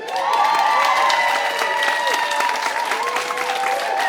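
Audience applause and cheering at a poetry slam, loud and steady throughout, a dense wash of clapping with whoops and shouted voices rising over it.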